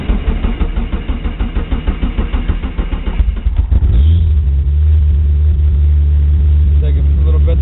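An Eagle Talon TSi, a modified 1g DSM, cranks over with a rapid rhythmic churning of the starter for about three seconds, then catches and settles into a loud, steady, rumbling idle close by.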